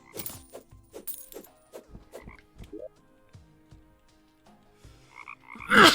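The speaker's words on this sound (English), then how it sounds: "Lots of frogs." Frogs croak in the game Terraria in a run of short, separate croaks, followed by a louder burst of noise at the end, with no speech.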